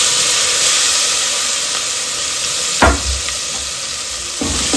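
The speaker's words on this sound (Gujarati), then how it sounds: "હવે આપણે જે આ પેસ્ટ બનાવી છે એ નાખી દઈશું." Spice paste hits hot oil already crackling with mustard seeds, cumin, asafoetida and curry leaves, making a loud, continuous sizzle with a couple of sharp spoon scrapes against the pan.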